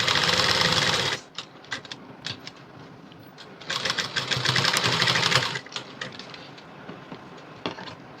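Sewing machine stitching a high-neck blouse: a loud opening burst of rapid motor whirring, then quieter stop-start handling, a second longer run of stitching and scattered short taps, close up.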